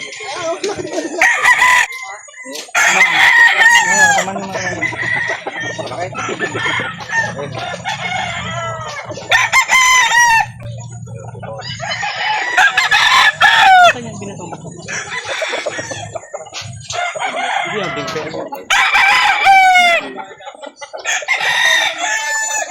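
Several roosters crow loudly nearby at a chicken market in Calauan in repeated long calls, with clucking and brief pauses between crows, and some faint talk in the background.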